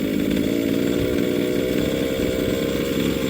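A Fuelie 30cc Walbro-carbureted 1/5 scale RC gasoline engine idles during low-speed carburetor tuning, giving a close, loud, continuous buzzing two-stroke drone with a steady, rapid rhythm and no speech over it.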